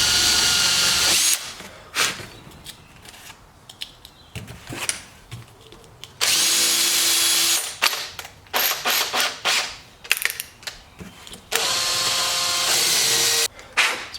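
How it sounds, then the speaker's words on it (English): A power drill whines in long loud bursts, stopping and restarting, with sharp clattering and grinding between runs as the bit catches on thin metal. "I think this drill bit should be the right size"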